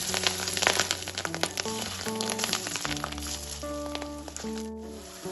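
Small fish roe fritters dropped into hot oil and frying, a crackling sizzle close by with bubbling pops, mixed with some tonal background sounds, no talk.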